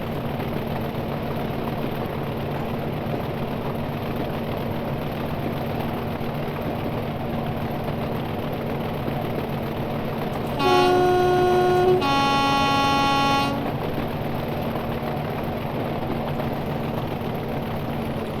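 A Class 40 diesel locomotive in Train Simulator 2021 drones steadily with a constant engine hum, interrupted midway by two short two-tone horn blasts.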